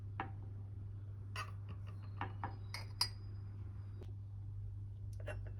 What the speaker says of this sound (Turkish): Öncelikle tek fincan için bir tatlı kaşığı kahve koyuyorum